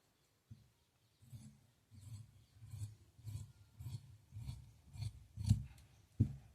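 Scissors cutting fabric for a frock-style nighty, a quiet, regular run of crunchy snips that grows slightly louder and ends with a sharper final cut, close up.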